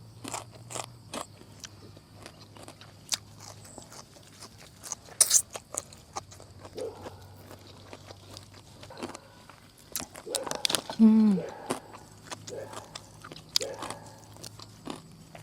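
Crispy fried pork rinds bitten and chewed up close, sharp crunches and crackles in irregular bursts, with someone speaking between bites.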